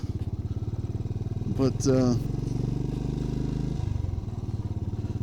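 A Royal Enfield Bullet 500 single-cylinder motorcycle ridden along at a steady thumping idle-to-cruise rhythm, loud and close, with someone briefly speaking over the engine midway.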